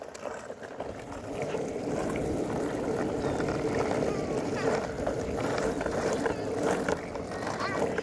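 A child's scooter rolls across wet ground in the rain, giving a steady, close broadband rolling hiss that runs unbroken through the whole stretch.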